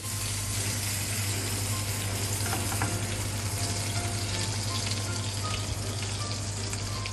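Rabbit saddle pieces fry and brown in a pan with a loud, continuous close-up sizzle, steady throughout, with occasional faint clicks and no talking.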